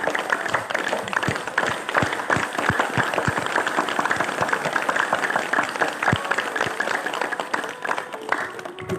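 People in a yoga class clap their hands together as an exercise, producing dense, continuous, fast clapping that stays loud and even throughout with no voices.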